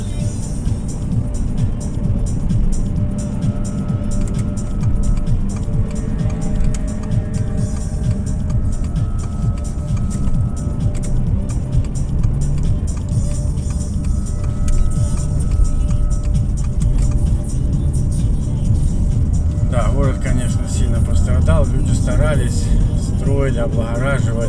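Road noise and engine hum from inside a car driving through the town of Rubizhne in mid-January 2023, a steady loud drone with someone talking over it throughout.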